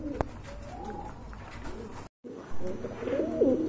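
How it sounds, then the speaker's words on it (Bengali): A pair of black-lace satinette pigeons coo close by in low, throaty rolling calls, with a brief dropout midway before the cooing resumes louder. "চলেন আপনাদেরকে কবুতর গুলো দেখাই"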